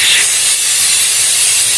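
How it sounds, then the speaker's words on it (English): Stoner spray shine tire dressing hisses steadily from an aerosol can onto truck tires in one loud, continuous close burst. "I take my spray shine, or shine spray by Stoner, and this will create an even light"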